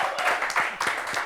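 Brief audience applause for a prize winner on a game show in Côte d'Ivoire: a quick patter of claps, moderately loud, lasting about a second.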